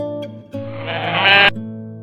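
A goat lets out one long, loud wavering bleat that swells and cuts off abruptly, framed by a short call before it and quieter animal sounds afterward.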